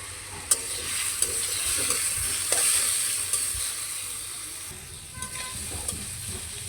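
Pumpkin bhaji frying on a low flame in a pan, a steady soft sizzle with occasional light clicks and stirring scrapes, close and even throughout with no talking.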